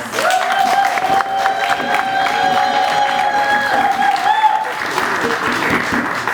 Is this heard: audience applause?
yes